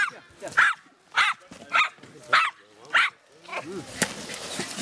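Several terrier dogs bark in sharp, repeated bursts while ratting, five loud yaps in a steady rhythm followed by busier scuffling and a single sharp crack, with human voices mixed in close by.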